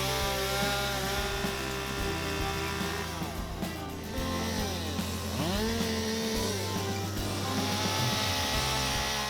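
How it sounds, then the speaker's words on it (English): A chainsaw roars continuously up close, its engine pitch rising and dipping as it revs and bites into wood. "I wanted to use a different tool, so I decided to do some chainsaw carving."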